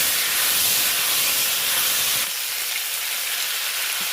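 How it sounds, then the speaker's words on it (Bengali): Sliced potatoes frying with salt and turmeric in a little oil in a very hot kadai make a loud, steady sizzling hiss that eases slightly partway through. "অল্প তেল দিয়ে আলুগুলো ভেজে নেবো"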